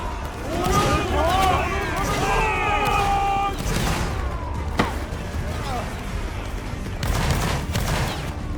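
Musket volleys crack through a video game line battle with needle guns, several sharp shots and a dense fusillade close together amid a chaotic soundscape, with players talking over the gunfire.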